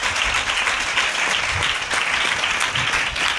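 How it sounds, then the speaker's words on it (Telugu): A church congregation at a fasting prayer meeting in Ramavarappadu bursts into sustained, dense applause, many hands clapping steadily and loudly throughout with no pause. "ఒకసారి చూసి దేవునికి మహిమకరంగా చప్పట్లు కొట్టాలి."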